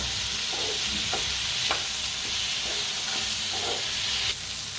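Green chillies and cashews roast in a hot pan with a constant bright sizzling hiss, broken by occasional soft spatula taps and stirs. No speech.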